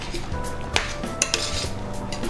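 A spoon stirs cream into smoked mashed potatoes in a pot, with soft scraping and a few sharp clinks of utensil against cookware, close and moderately loud against light kitchen background.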